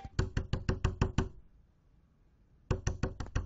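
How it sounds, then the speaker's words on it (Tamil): Rapid bursts of knocking on a door, about seven sharp raps, then a pause and another run of five or six raps, loud and close with no voices. "ஏன் மறுபடி தட்டுற?"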